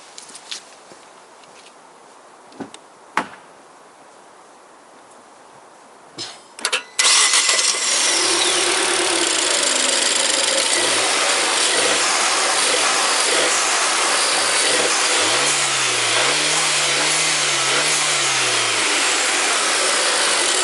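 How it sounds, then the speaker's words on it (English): A few clicks and thumps, then a Volvo S60's 1.6-liter turbocharged engine cranks and catches, settling into a loud, steady idle with a brief rev partway through. "I start the engine."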